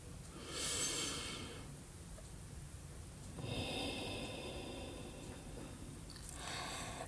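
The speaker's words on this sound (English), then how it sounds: "Breathe in. Breathe out." Slow yoga breathing during a stretching routine, with a long audible inhale and exhale repeated about three times, soft and close with a slightly hissy, airy quality.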